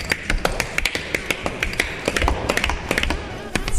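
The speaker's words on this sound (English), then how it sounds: "doing a little tap dance" A tap dancer shuffles in metal-plated shoes in a bar, the quick, sharp metallic clicks coming close and loud in an uneven, scuffing rhythm.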